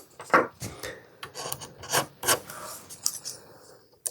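An RC plane's landing gear mount, torn out and being repaired, is trimmed back with rasping strokes close by. The scraping comes in irregular bursts of uneven length and loudness, with no speech.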